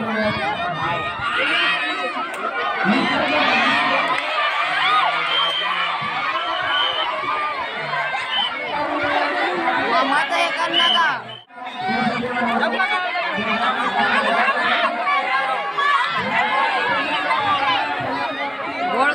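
A large crowd keeps up dense, continuous shouting and chatter with scattered cheers throughout a women's kabaddi match, with one brief dip near the middle.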